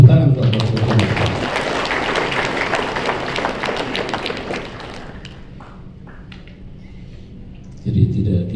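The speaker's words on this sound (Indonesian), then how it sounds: "Tepuk tangan untuk Bapak." A crowd at a Papua Highlands governor's inaugural speech applauds the MRP chairman with dense, sustained clapping that fades after a few seconds, then a voice returns over the room.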